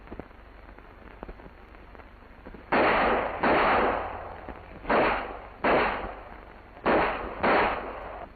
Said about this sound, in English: it's another thing to hear those bullets whizzing by your ears